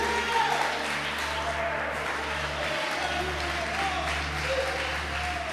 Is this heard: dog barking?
no